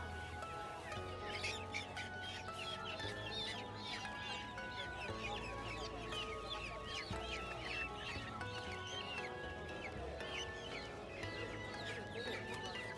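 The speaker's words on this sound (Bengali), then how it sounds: "এগুলো হচ্ছে ফাইটার মোরগ" Fighter roosters and other poultry cluck steadily at a large bird and poultry market in Dhaka, a dense, busy chorus of many birds close by, with occasional crowing and murmuring voices underneath.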